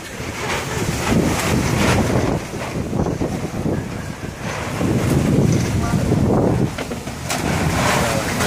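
Strong typhoon wind in Taiwan roars and buffets the microphone in loud, continuous gusts that swell and ease over several seconds, with a rushing, wave-like quality throughout.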